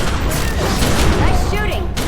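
Gunfire in The Secret World video game, a dense rattling barrage of shots and booms filling the short moment, loud and close, with voices speaking over the firing.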